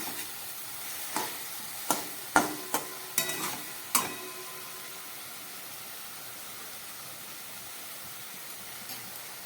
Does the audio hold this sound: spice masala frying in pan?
yes